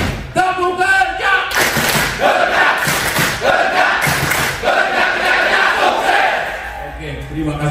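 A large gathering chants loudly in unison with rhythmic foot stomps and claps thudding under the voices, a dense, close, energetic group sound that continues throughout.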